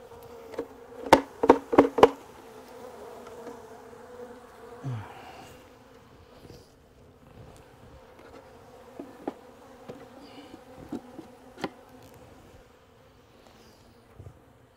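Honey bees from a queenless hive drone in a steady buzz during a shook swarm, with several sharp knocks early on and scattered clunks of hive equipment throughout, no talking.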